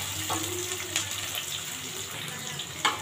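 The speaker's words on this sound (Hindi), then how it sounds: "ऑयल गरम हो चुका है, इसमें अब हम डाल देंगे राई, जीरा, थोड़ी सी हरी मिर्ची, साथ ही डाल देंगे थोड़े से प्याज।" Mustard seeds, cumin, green chili and onion sizzling in hot oil for a tinda curry, a steady close hiss and crackle with a few small pops.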